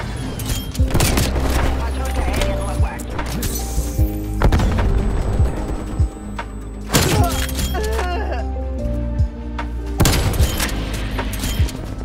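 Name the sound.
Swiss K31 rifle gunshots in a video game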